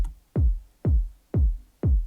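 A clean progressive house kick drum for a dance track, four punchy thumps evenly spaced, each a loud low boom with a quick pitch drop and short decay, heard alone.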